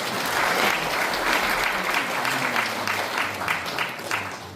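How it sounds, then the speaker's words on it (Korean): Warm applause from an audience at a Korean Provisional Government anniversary ceremony, steady and moderately loud, with a faint voice underneath as the clapping gradually thins out. "다시 한번 뜨거운 박수"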